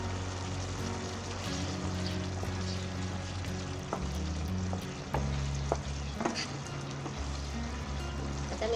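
Kadai paneer gravy sizzling and bubbling down in a pan over a high gas flame, a steady close frying hiss with occasional spoon stirs and scrapes, under a low kitchen hum.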